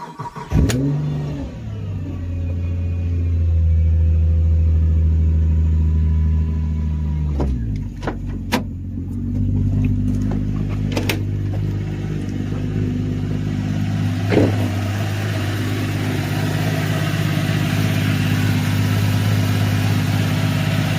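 Subaru Impreza with a swapped EZ30R flat-six cranks over and catches, settling into a steady, loud idle that runs on alone close by with a brief blip partway through.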